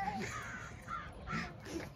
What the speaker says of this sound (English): The birds are starting to circle around for the night.